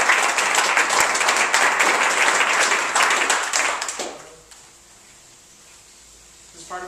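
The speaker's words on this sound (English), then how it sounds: "so round of applause for them." An audience applauds at a poetry reading, a dense burst of clapping that holds steady for about four seconds and then quickly fades to a quiet room.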